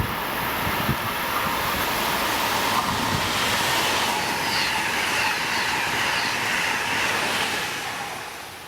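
An Amtrak Northeast Regional passenger train bound for Boston rolls loudly into Croydon station in the rain, a dense rushing roar of wheels on rail with faint squeals, fading slightly at the end.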